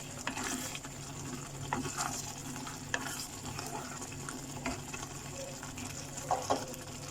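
Cooked rajma, a spiced kidney bean curry, being dished out of a pot with a spoon, giving soft scraping, clinks and wet plops spread sporadically, fairly quiet and close.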